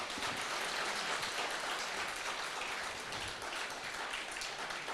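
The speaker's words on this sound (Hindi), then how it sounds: "मैं चाहूंगी आप तालियों के साथ" An audience at a news event applauds the Chief Minister of Uttar Pradesh with steady, dense clapping. The sound stays at an even level throughout and has the full texture of a large crowd.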